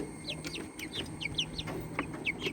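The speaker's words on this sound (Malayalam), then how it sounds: "നല്ല കോഴിക്കുഞ്ഞുങ്ങളാണ് ഞാൻ അടവച്ച് വിരിയിച്ചതാണ്" Native chicken chicks, incubated and hatched at home, peep in quick, high chirps. The chirps come in scattered bursts close by over a faint background hum.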